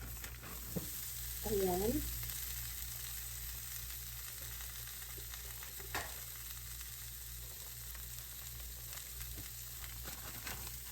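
Thinly sliced meat sizzles in a pan with onion and garlic for gyro, a steady close frying hiss with a few clinks of utensils and a brief spoken word.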